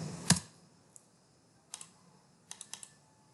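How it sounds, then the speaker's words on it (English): A computer keyboard in use: one louder key press followed by several light, scattered taps, close and quiet with no voices. "Now I'm just going to click enter."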